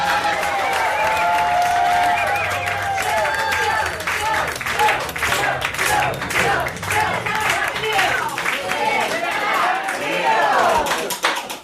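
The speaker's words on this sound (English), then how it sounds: "big round of applause for the final storyteller of the night" A live storytelling game show audience claps and cheers for the final storyteller of the night. The loud, dense applause from a nearby crowd runs throughout, with whoops and voices mixed in.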